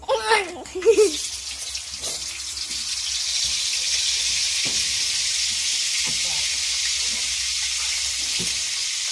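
Oil sizzling and spattering in a pan during frying, a steady close hiss that sets in after a brief burst of voice at the start and continues with small clatters underneath.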